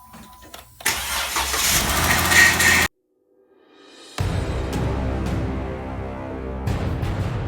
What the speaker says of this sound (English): the engine back together enough to start the Jeep back up